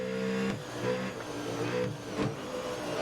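A car engine in the video game Grid Autosport on Nintendo Switch revs and drops repeatedly with gear shifts at Brands Hatch, a buzzy drone carrying a faint turbo whine, steady and moderately quiet.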